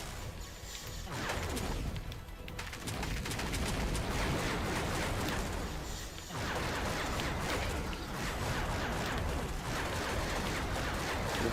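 Continuous shooting and explosions in the video game Bionicle Heroes, dense loud bursts and crashes running nearly unbroken, with brief dips between volleys.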